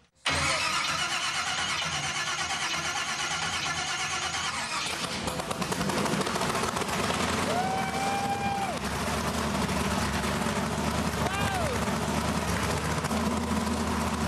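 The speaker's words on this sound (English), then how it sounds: "The engine started, the props were turning, but nothing is moving." A homemade amphibious vehicle's engine cranks, fires and settles into a loud, steady mid-pitched running drone with turning propellers, held throughout, with brief rising whine-like tones over it.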